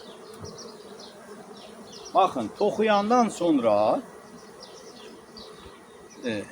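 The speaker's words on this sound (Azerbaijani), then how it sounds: "indi arılar ki yuxarı artıq qalxıblar, işləyirlər" A dense, steady hum of honeybees buzzes close by in an open hive, with people talking over it in bursts.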